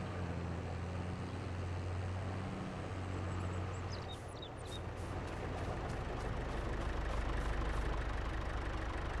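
A small yard tractor engine idles steadily in a Farming Simulator 22 farmyard, a low continuous hum holding the same level throughout with faint clicks and light mechanical noises over it, no talk.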